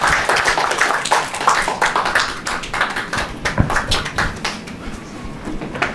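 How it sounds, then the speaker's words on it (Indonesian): An audience at a stand-up comedy show claps, with distinct, fairly loud individual hand claps that come in rapid irregular bursts, close to the listener, and no talk over them. "Tepuk tangan dong sekali lagi dong buat Okta dong."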